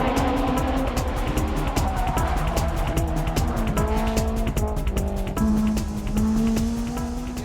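Turbocharged cars, among them a Mitsubishi Lancer, race uphill with engines revving hard and tires squealing through corners, loud and continuous throughout, with shifting engine pitch.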